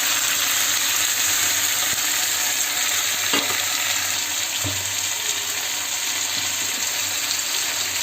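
Potatoes frying in a pan as tomato is added, a steady loud sizzle throughout with a few soft clinks and stirring knocks, no speech.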